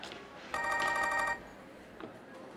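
A telephone gives one short electronic ringing burst of rapid warbling trills, fairly close and clear, then falls quiet.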